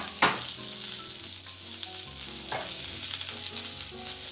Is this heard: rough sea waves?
no